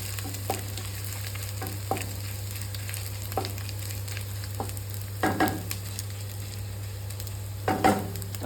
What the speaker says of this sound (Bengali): আদাটা দেখুন ভাজা ভাজা হয়ে গেছে, দিয়ে দিচ্ছি কচুটা